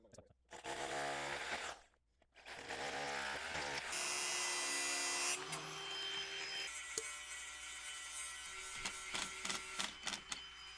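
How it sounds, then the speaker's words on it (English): An electric planer working down a timber window frame during a gable end window install, loud sustained whining drone after a brief pause, then running on with lighter tool noise and knocks. "I've got time to use the planer to plane that down"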